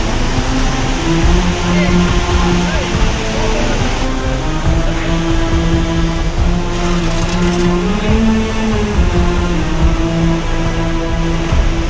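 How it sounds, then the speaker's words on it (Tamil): Floodwater after heavy rain roars over Panchalinga waterfall, a loud, dense, unbroken rushing wash that fills the whole clip, with a steady low hum running beneath it. "தொடர் கனமழையால பஞ்சலிங்க அருவில ஆர்ப்பரிச்சு கொட்டிருக்கு வெள்ள நீர்"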